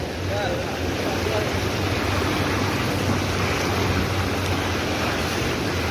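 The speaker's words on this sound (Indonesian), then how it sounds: "Untuk arusnya ini termasuk deras, Bosku." Strong floodwater current rushing through the streets of Sorong, roughly waist-deep, a dense, steady broadband roar of churning water that stays loud and constant throughout with no breaks.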